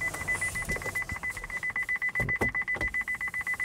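An Opel Ampera-e parking sensor beeps rapidly at evenly spaced intervals, steady and high-pitched, fairly loud, with some low rumble and brief knocks underneath.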